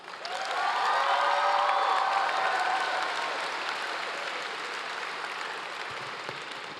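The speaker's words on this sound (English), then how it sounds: "Let's give ourselves a big round of applause." At the Hillwood High School class of 2019 graduation, a large crowd applauds with a dense wash of clapping and a few cheers, loud and sustained, tapering slightly toward the end.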